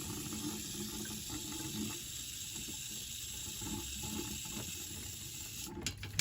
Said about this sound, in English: now I'm putting this cooler flush through here and it's really filling this thing up with trans fluid